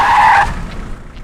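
A car arrives with a sharp, loud tire skid lasting about half a second, then a low rumble fades out.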